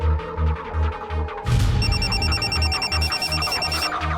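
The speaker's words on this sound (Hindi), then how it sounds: "फोन किसका आया था?" A telephone rings in a Hindi crime-drama scene, its electronic ring tone chirping in repeated bursts over a steady throbbing low pulse of background music.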